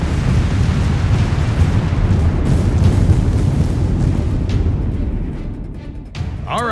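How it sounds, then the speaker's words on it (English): Naval bombardment in the Company of Heroes 3 Italy campaign, with ships shelling a coastline: a dense, continuous rumble of heavy booms and blasts rolling together, loud and close, easing slightly toward the end. "Fire when you're ready, and we'll give those Germans a wake-up call they won't forget. All ships, open fire!"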